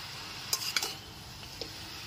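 Bottle gourd pieces stirred in a pan over a medium gas flame, a few soft utensil scrapes and clinks over a faint background sizzle, quiet and close.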